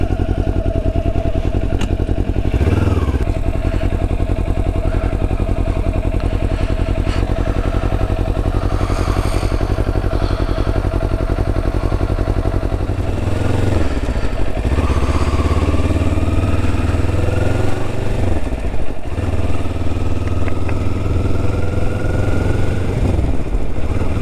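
A Kawasaki Ninja 400 motorcycle being ridden at night through a Christmas lights tour, with a steady, loud engine drone and wind rush throughout, rising and falling with throttle changes and a few gear shifts.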